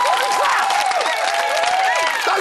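A TV studio audience claps and cheers continuously as housemates leave the house, a dense, loud wash of applause throughout.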